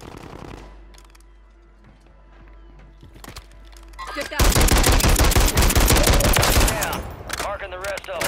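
Rapid SMG bursts in Call of Duty's Rebirth Island battle royale, loud and close, building from scattered shots into dense sustained automatic fire over the second half, with game sounds underneath.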